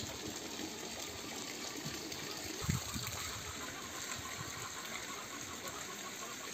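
Rainwater runs steadily off a house in the Altai after the first summer rain following a long heat wave, a continuous soft gushing wash with one brief louder splash partway through.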